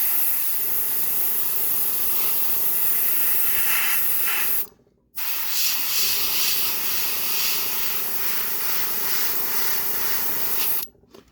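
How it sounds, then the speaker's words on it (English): An airbrush sprays black paint onto a Bachmann Spectrum Dash 8-40CW military model locomotive shell in a loud, continuous hiss that fluctuates slightly. It breaks off once briefly midway and stops again near the end. "It's my first time using an airbrush to paint anything"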